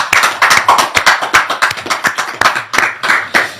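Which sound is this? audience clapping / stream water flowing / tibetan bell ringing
audience clapping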